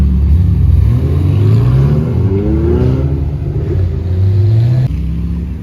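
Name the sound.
Ferrari F355 engine revving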